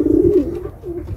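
A pigeon in a coop gives a short, soft, close-up throaty coo, repeated in two quick low phrases with no talking over it.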